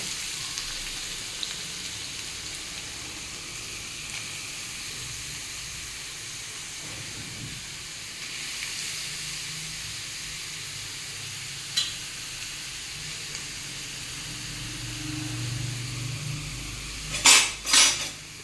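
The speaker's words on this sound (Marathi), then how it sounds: "याच्यामध्ये किसलेले गाजर टाकूया हे बघा" Grated carrots sizzle in a pan with a low, steady hiss of frying, ending in a couple of sharp clinks of a utensil against metal.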